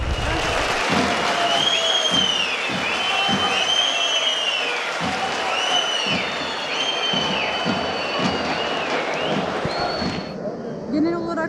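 Crowd applause in the stands at the 2019 Kırkpınar oil wrestling final, a broad wash of clapping and cheering that runs throughout under a loud announcer's voice before thinning out at the end.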